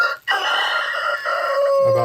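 Rooster crowing near an outdoor smoker while pork ribs cook; one loud, close crow that rises, holds and trails off, with a short clucking note at the end.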